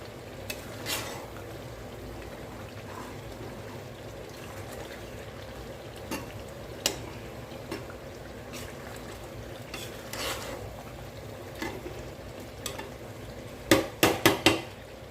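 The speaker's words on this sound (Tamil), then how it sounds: "சேர்த்து நல்லா கிளறி கொடுத்துக்கோங்க பாருங்கள் எண்ணெய் எல்லாம் பிரிஞ்சு வருது" Gongura pickle frying in oil is stirred in a pan, a low steady sizzle with occasional scrapes and a quick cluster of sharp metal clinks near the end, close and without speech.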